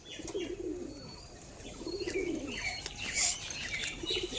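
A male pigeon coos in several throaty, rolling bursts a second or so apart, close and moderately loud, with light chirps from other birds behind.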